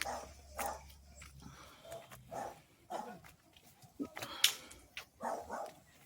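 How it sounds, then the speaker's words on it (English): A dog on a hilltop overlooking a valley barks several times at irregular intervals. The sharp, moderately loud yaps carry outdoors with some quieter whines between them. "So cousin Tony dog barking"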